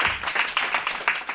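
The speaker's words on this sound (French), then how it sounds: "Et je tiens à vous applaudir." A small audience applauds at a Red Cross training-centre brunch event in Marseille, a brief burst of fairly soft, continuous hand clapping with no voices over it.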